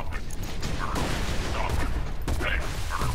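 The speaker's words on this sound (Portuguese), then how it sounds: "Toma, tiro de escopeta" Shotgun blasts and other gunfire ring out in the video game Borderlands 2 during a fight with robots and bandits. Several sharp bursts and mechanical clatter come in quick succession, with a player talking over them.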